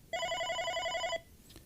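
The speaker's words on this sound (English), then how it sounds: "you wait for the call to start ringing" An OpenStage desk telephone rings for an incoming call with one steady electronic warble lasting about a second, clear and close, then stops into quiet room tone.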